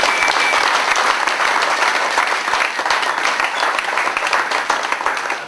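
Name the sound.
audience applause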